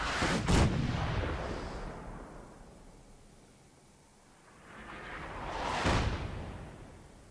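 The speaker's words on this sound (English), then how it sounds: "Lots of big explosions. You've now got artillery support." Two heavy booming blasts of artillery strikes in the video game Fallout, one at the start and another near the end, each followed by a long rumbling decay, with quieter stretches between.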